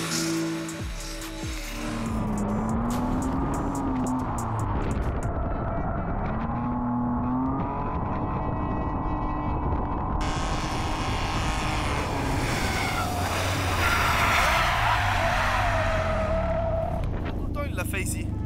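A car drifting on a track, its engine revving and tires skidding and squealing in long continuous sweeps, loud and close, with voices talking over it throughout.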